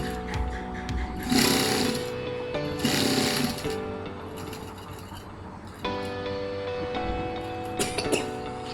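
Sewing machine stitching the folded side piece of a jute lunch bag, a steady mechanical whirring run in several bursts with short pauses between them, close by, with no talking.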